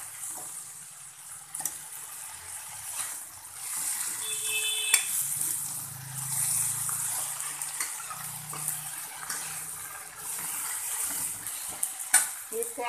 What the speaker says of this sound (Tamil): தண்டு போட்டதுனால ஒரு 2 நிமிஷம் வதக்கினா போதும்.